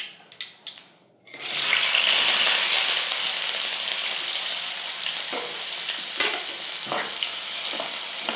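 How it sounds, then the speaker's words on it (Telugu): Onions and green chillies tipped into hot oil in a pan for a mulakkada tomato curry, after a few clinks; a loud, steady sizzle follows close up with occasional spoon scrapes, no talking. "ఇప్పుడు ఉల్లిపాయలు, పచ్చిమిరపకాయలు వేసుకుందాం."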